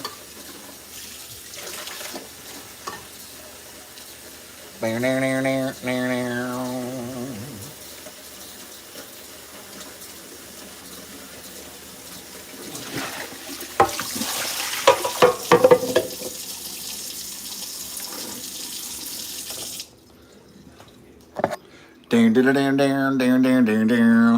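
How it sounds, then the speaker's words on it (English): A man washes dishes at a sink under a running tap, with steady water flow throughout, occasional clinks and splashes, and brief stretches of louder rushing water. "real 2023 is being able to watch a guy do the dishes in real time."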